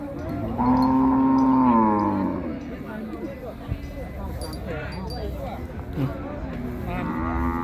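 Cattle at a livestock market moo loudly and close by in one long drawn-out call, with fainter calls following amid crowd noise and an auctioneer's ongoing chatter.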